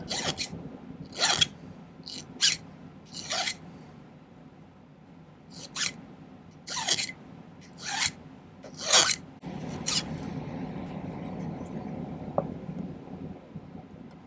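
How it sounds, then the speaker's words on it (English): A hand file rasps excess silver sheet off a piece for an Art Deco pendant: about eight short, close scraping strokes in an uneven rhythm, then quieter fiddling handling noise. "file off the excess sheet here."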